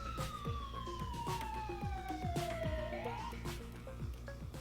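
A wailing police siren from the video game Thief Simulator sweeps downward in pitch, loud and steady, over a rumbling engine-like background with repeated thumps.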